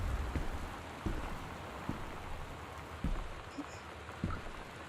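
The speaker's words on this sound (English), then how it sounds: "Oh, I don't like the storm noises." Rain from a storm in the Gone Home video game patters steadily at low volume, with a few soft dull thumps scattered through it.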